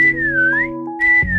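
A clear, steady whistle in the Roblox game Meccha Cameleon sounds twice, the first long and gently wavering, the second shorter, with a low electronic tone underneath.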